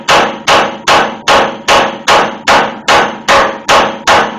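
Hammer striking the pitman arm on a Crown Victoria or Grand Marquis steering linkage: ten loud, sharp metallic blows at an even, steady pace about every half second, each ringing briefly, close and alone, with no talking.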